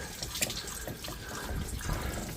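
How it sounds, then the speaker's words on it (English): Coolant water draining out of a VW Polo Mk2 86c cooling system, a continuous splashing pour with small gurgles and drips, close and fairly loud. "Let's get this water out."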